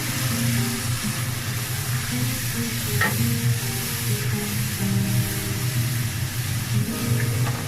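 Spice paste of cumin and coriander powder with water, cooking over medium heat in a pan for tuna curry; a continuous soft sizzle with occasional stirring scrapes, close and steady.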